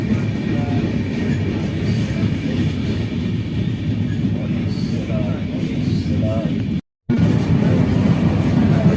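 The Purulia Howrah Superfast Express runs along the line, heard from inside the coach as a loud, continuous rumbling roar with rhythmic wheel clatter and a brief drop-out near the end.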